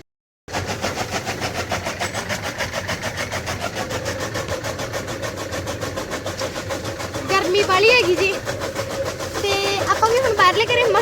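A chaff cutter machine runs steadily with a fast rhythmic clatter and engine drone, growing louder toward the end.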